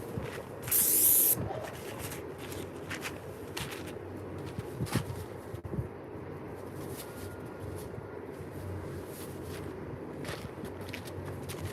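A paint sprayer blasts desk parts in one loud hissing burst of about half a second near the start, then gives way to quieter shuffling and handling in the shop.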